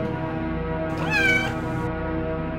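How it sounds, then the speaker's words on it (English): A cat meowing in the 1995 video game Phantasmagoria: one loud, drawn-out, rising-and-falling meow over a steady humming game background, with no talk. "Not a nice kitty."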